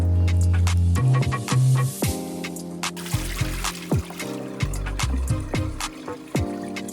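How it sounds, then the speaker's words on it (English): Peeled breadfruit is washed under running water, with splashing, trickling and clunks of the fruit against a sink or bowl, close and moderately loud, without talk. "After the breadfruit is peeled and I remove the unwanted section,"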